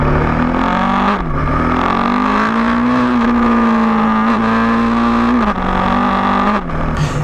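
A KTM 1290 Super Duke R motorcycle engine revs loudly and close as the throttle opens, holding a steady droning pitch that rises slightly and dips in brief drops, with no voices.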